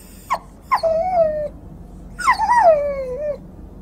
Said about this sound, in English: the video game dog's feeling a little sick. Has an ear infection.